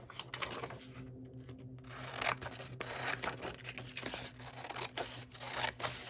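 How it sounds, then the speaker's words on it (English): Scissors cutting through a Smarties cardboard box, close, quiet snipping and crisp cardboard crunches in an irregular series, with short pauses between cuts. "Definitely quicker using scissors sometimes for me."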